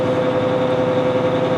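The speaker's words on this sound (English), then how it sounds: "The engine throttle comes up." A Liebherr GMK4100L-1 mobile crane's engine throttles up, a steady low droning hum with a constant tonal whine, close and even throughout.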